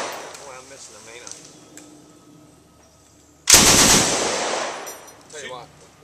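An M60 machine gun fires one sudden loud burst outdoors, a sharp blast with a ringing decay, after a quiet stretch with faint voices in the background.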